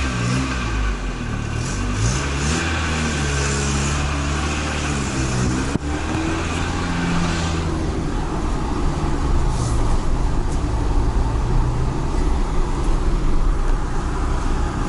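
An Opel Corsa A barn find, driving for the first time after 16 years of standing in an abandoned building, with its engine running steadily and rising and falling in pitch as it accelerates, loud and close throughout.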